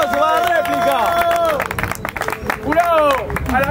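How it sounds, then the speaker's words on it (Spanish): A crowd claps and cheers at a freestyle rap battle during a preseason tournament quarterfinal, the applause sitting beneath loud, close shouting voices. "¡Un aplauso para la réplica!"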